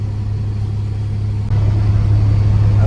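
A mining machine's engine runs through a night shift, a steady low droning hum that grows slightly louder partway through, with no voices.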